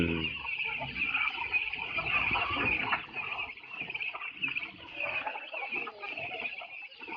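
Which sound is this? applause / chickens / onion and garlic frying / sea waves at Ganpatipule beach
chickens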